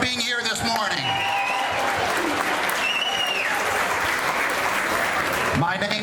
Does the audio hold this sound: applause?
yes